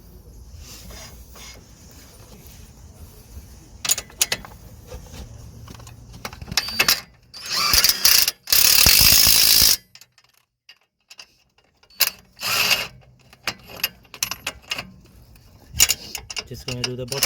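A ratchet drives the nuts onto a front shock absorber of a Vauxhall Opel Combo, Fiat Doblo, Citroën or Peugeot van, with several close, irregular bursts of rapid clicking separated by pauses, plus louder mechanical clatter midway.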